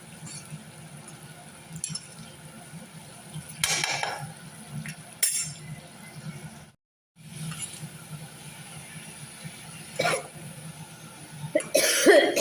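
A person coughs several times in a kitchen while washing singhi fish, with dishes and utensils clattering nearby, the bursts loud and close over a steady background hum.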